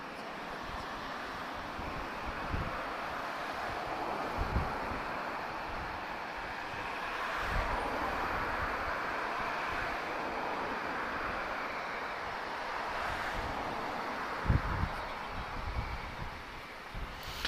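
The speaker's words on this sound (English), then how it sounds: "That wind's picking up again now" Steady wind gusting across an open airfield at Lisbon Airport, a continuous low rushing roar with microphone buffeting and occasional stronger thumps, no voices over it.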